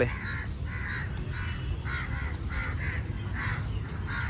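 Several crows caw in short repeated bursts at a moderate distance near a lake in Kolkata, spaced a second or so apart over a steady outdoor background.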